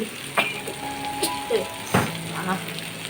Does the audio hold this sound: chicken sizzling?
yes